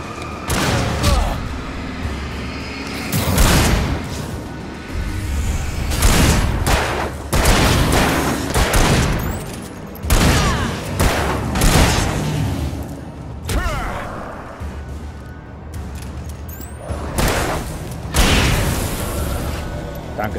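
Bursts of rapid gunfire and booming shots in the video game Alan Wake, loud and repeated in clusters, with short quieter gaps between volleys.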